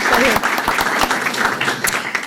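Loud, close applause from a group at a school board meeting, with dense clapping throughout, some voices mixed in.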